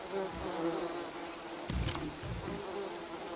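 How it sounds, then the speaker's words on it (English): Steady insect buzzing hums throughout, like bees droning close by, with a soft brief rustle partway through and no voices; queen bees being collected in the survival video game Green Hell. "Right now, I am just collecting some queen bees for us."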